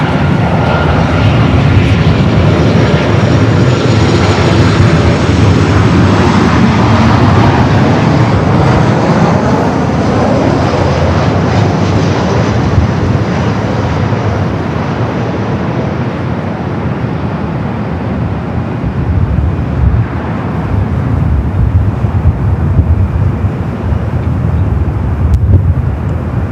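An Emirates Airbus A380 arrives on the north side at LAX, its four engines a loud, close, continuous rumble and roar that slowly fades toward the end.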